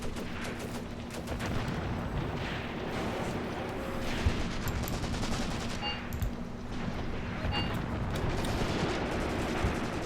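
Machine guns fire from several positions at once in the WW2 tactics video game Graviteam Tactics: Mius Front, with scattered bursts and distant booms rattling continuously over a dense battle din, no talk.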